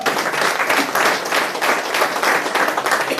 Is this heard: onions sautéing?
no